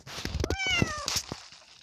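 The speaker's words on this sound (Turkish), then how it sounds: "Ve kediyi kurtaracağız. Ve işte kedime geldim." Cat meowing in the Roblox video game, two or three clear, close meows in quick succession over a faint game background.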